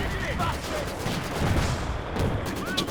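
Machine-gun bursts and anti-tank fire crackle and boom in a Company of Heroes 2 winter battle, a dense rattling volley of shots with heavier thumps underneath, at moderate level beneath occasional commentary.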